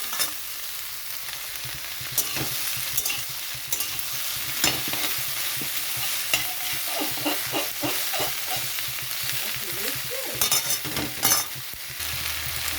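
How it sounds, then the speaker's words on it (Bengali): Taro stolons stir-frying in a pan with a steady hiss of hot oil, broken by a spatula scraping and knocking against the pan in irregular bursts, close up with no talking. "এখানে কচুরলতিটা দিয়েছি। এখানে এটা কষাতে হবে ভালো করে।"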